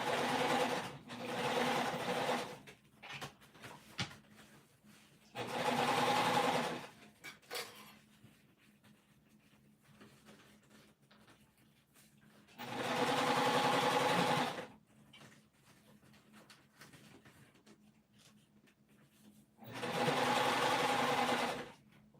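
A sewing machine stitches a crescent bag in four loud, steady runs of several seconds each, separated by quieter pauses filled with faint handling.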